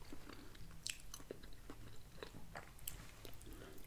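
Close, quiet chewing of roasted carved white-meat turkey from a frozen dinner, soft moist bites and mouth sounds repeating irregularly with a few faint crunchy clicks.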